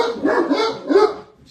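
A pet dog at home gives a short run of yips and barks, a couple of quick bursts in close succession, near and fairly loud, with no talking over it.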